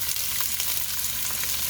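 Onion sautéing in olive oil in a Dutch oven, a steady broadband sizzle, close and even throughout with a few faint crackles.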